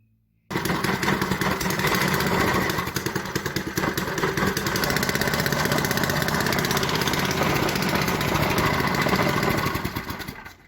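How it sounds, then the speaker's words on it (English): A Predator 212cc small gasoline engine, running without an exhaust, starts abruptly and runs loud and raw, a harsh, rapid mechanical clatter holding steady close by before fading slightly at the end. "there's the Predator. I rebuilt it. It runs."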